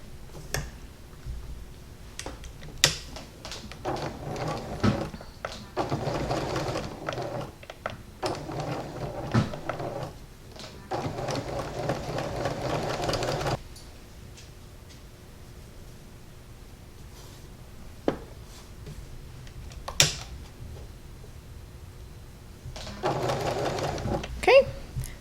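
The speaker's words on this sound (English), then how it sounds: "we're going to sew this seam and then this seam" A sewing machine stitches a seam on fleece in several bursts of steady whirring, with pauses between runs and a few sharp clicks as the fabric is handled.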